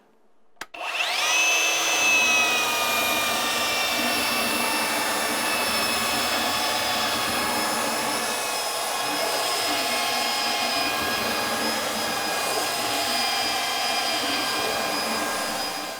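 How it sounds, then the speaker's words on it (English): A belt sander rounding the edge of a wooden floor transition strip starts up abruptly, then holds a loud, steady, close whining roar with a strong high tone for the rest of the time. "I'm just going to use a belt sander"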